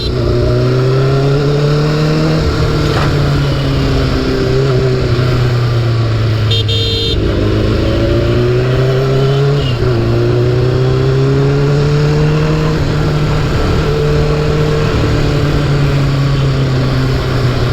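A Gen 1 Suzuki Hayabusa motorcycle, old but in good condition, revs its engine in a steady loud drone, its pitch rising and falling through several throttle swells, with a brief horn-like tone partway through.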